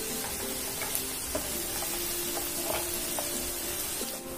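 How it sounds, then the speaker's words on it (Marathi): Onion sautéing with curry leaves in hot oil in a pan, a steady close sizzle and frying hiss with a few small ticks and pops, no talking. "कांदा थोडा गुलाबीसर रंग येईपर्यंत परतवायचा आहे"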